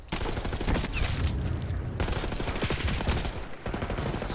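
Rapid automatic gunfire from a Call of Duty league match, dense and continuous bursts layered with game effects throughout, with no pauses in the steady loud din.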